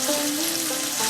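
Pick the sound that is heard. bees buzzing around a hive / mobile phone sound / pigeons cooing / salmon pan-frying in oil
salmon pan-frying in oil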